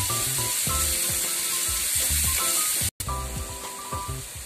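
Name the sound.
onion and sliced val beans frying in a pan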